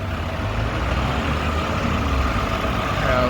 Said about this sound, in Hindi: ये आप देख रहे हैं हर तरफ राइट ट्रैफिक,